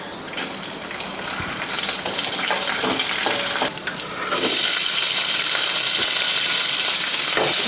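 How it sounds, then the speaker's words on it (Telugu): Oil sizzles as chana dal, urad dal, mustard seeds and cumin are tempered in a pan, a close, crackling hiss with stirring clatter that grows louder and steadier in the second half. "కొంచెం ఆయిల్ వేసుకుని కొంచెం శనగపప్పు, కొద్దిగా మినప్పప్పు, ఆవాలు, జీలకర్ర అన్నీ వేసుకుని మంచిగా పోపు పెట్టుకోవాలి"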